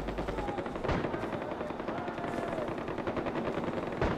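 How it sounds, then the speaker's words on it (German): Gunfire in the video game Far Cry 4: dense, rapid bursts of automatic fire with sharper single shots, continuous and fairly loud throughout with no talking. "Hier wird irgendwo geschossen."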